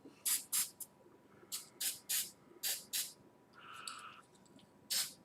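Aerosol spray applying a light coat onto six playing cards, heard as about nine short hissing bursts in a steady rhythm, close and fairly loud, with a softer tonal hiss in the middle.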